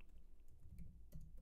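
Computer keyboard typing, a quick run of light, close key clicks at faint volume with no talking.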